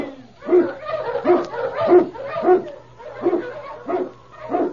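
Husky sled dogs bark and yip in a steady series of roughly eight loud, close barks spaced about half a second apart, over a low steady hum.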